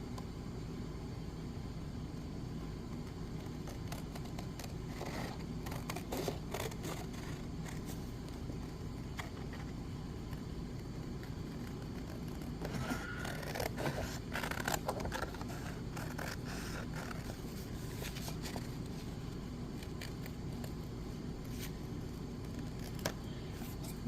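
Paper being cut to round the corners for book covers, with soft intermittent snips and scraping rustles, a denser cluster midway, all faint and close over a low steady background.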